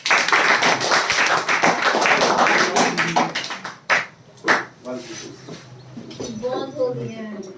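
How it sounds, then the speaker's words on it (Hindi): Students in a maths class clap loudly, a dense burst of hand claps for several seconds that thins into scattered claps with voices talking over them near the end. "तो जोरदार ताली होना चाहिए"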